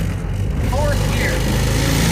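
A pickup truck powered by a Harbor Freight Predator 212 6.5 horsepower engine drives along. Its small engine makes a steady, close, buzzing drone that builds slightly in loudness and holds at a constant pitch throughout.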